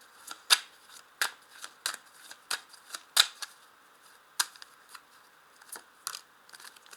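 Tarot cards are shuffled and snapped down one by one, producing sharp, close, crisp slaps and flicks that arrive at irregular intervals about half a second to a second apart, with no talking.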